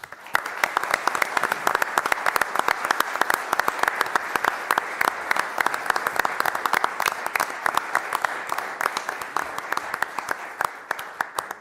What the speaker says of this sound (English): Please join me in a round of applause for Kevin Strain.